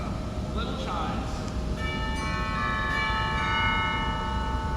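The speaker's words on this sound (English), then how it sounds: "so those are the little chimes inside" Little chimes inside the chamber of the world's largest theatre pipe organ ring out as sustained bright tones that bloom in partway through, layered over a constant loud hum and rumble of the instrument.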